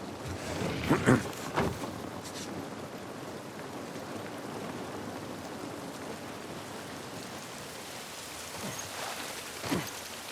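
Rain falls steadily in the video game The Last of Us Part I as a fairly faint, even hiss, with a few louder knocks and footstep-like thuds near the start and one near the end.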